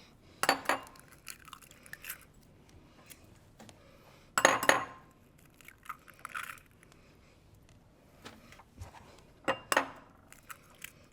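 Eggs being cracked and separated for bucatini carbonara, scattered sharp taps and clinks of shell against a bowl with soft shuffling between, close and fairly quiet.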